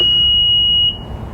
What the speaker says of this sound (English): That beep is telling us that this is now the maximum threshold for where the roof will go